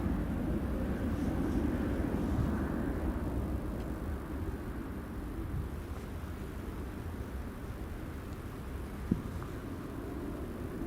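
An EasyJet airliner arriving from Belfast at Newcastle Airport, heard as a steady, distant broadband roar of jet engine noise that fades slightly over the span, with no voices.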